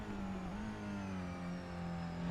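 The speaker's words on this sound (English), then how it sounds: "you can actually hear the oscillation of the engine there" A TCR race car engine at Watkins Glen in a sim racing game drones steadily at high revs, a continuous buzzing tone with a slight wobble in pitch as it climbs a hill, fairly faint.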